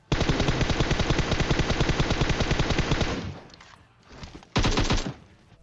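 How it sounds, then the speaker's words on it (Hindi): Sustained automatic gunfire in the mobile battle-royale game PUBG Mobile, a rapid continuous stream of shots that stops, then a short second burst, loud and close with no talking. "यहाँ पे धैड़ पैड गोली चल रही थी"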